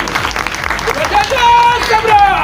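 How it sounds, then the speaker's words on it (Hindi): A crowd claps steadily, the applause swelling louder partway through, with some tonal sounds and voices mixed in. "तो ऐसे लोगों के लिए जोरदार ताली बजाइए"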